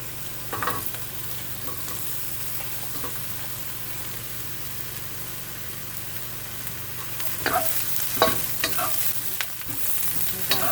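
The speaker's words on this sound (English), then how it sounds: "the second item I'm going to add are the onions" Onions stir-frying in oil in a pan for an eggplant and basil stir fry, a steady close sizzle with scraping stirs that pick up toward the end, no voices.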